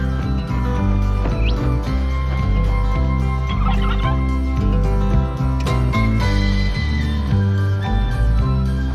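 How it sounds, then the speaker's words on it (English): Wild turkeys gobble beside a dusty outback road on the Birdsville Track: repeated bursts of gobbling calls over a dense, steady background, with no one talking. "I can see here that wild turkeys have found it already"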